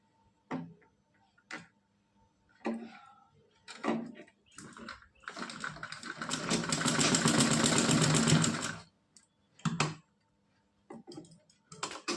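A sewing machine stitches net dress fabric in one sustained run of rapid mechanical ticking, set between short separate taps and clicks, close by and with no talking.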